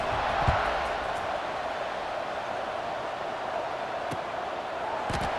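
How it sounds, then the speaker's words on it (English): Steady stadium crowd murmur fills the whole stretch as a constant roar, with a couple of brief thumps rising above it, from a simulated college football game between Missouri State and Kennesaw State. "this crowd is buzzing after that last score"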